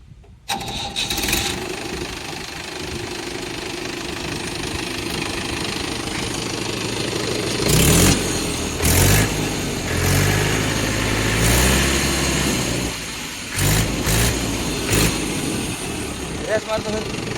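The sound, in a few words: Mahindra B 475 tractor engine started and running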